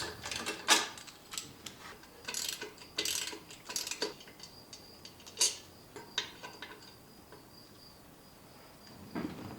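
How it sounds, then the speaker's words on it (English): Ratchet clicks in short bursts while removing the four 10mm bolts holding the fuel rail to the intake manifold of a Jeep 4.0L engine, a faint high-pitched ring between the bursts. "Now let's go ahead and take off the 4 10mm bolts that secure the fuel rail to the intake manifold."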